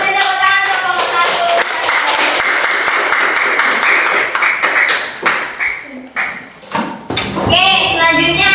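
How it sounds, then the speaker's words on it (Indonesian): Classroom clapping for a student group during a lesson on cube and cuboid nets, loud close hand claps mixed with children's chatter and taps, fading out partway before voices return. "beri tepuk tangan untuk kelompok"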